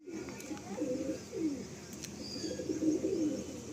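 Pigeons cooing in a pigeon loft in Sonarpur, soft low coos rising and falling steadily through the whole stretch, close by with faint background chirps.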